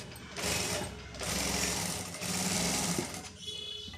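A sewing machine runs in rapid, buzzing bursts while stitching a straight cut pant, three close stretches of steady whirring with brief pauses between them.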